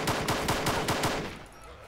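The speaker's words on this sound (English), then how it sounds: "They hearing gunshots." Gunshots in Arma 2: DayZ Overpoch in a steady rhythmic burst, about six evenly spaced shots, loud and close, fading out at the end.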